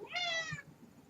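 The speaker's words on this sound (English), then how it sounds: "that's the cat." A pet cat gives one short, clear meow indoors, close by and on its own with no talking.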